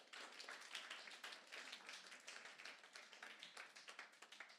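A congregation at a church teaching session claps in quick, continuous rhythm to acclaim the Lord, a dense patter of many hands at moderate distance, steady throughout without speech.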